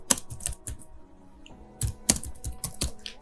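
Bursts of clicking keystrokes on a computer keyboard, near and crisp, in two clusters separated by a brief quiet pause.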